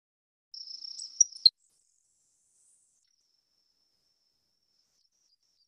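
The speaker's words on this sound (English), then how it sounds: "The call kind of sounds like an insect to me, which is probably why it's called the grasshopper sparrow." Grasshopper sparrow, a grassland bird, giving a thin, high, insect-like buzzy trill lasting about a second, ending in two sharp accented notes, clear and alone against silence.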